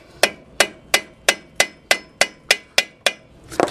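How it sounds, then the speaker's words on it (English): A ball peen hammer tapping a CV axle loose in the steering knuckle of a Toyota Corolla, ten sharp evenly spaced metallic strikes up close, followed by a brief clatter. "now I'll take my ball peen hammer"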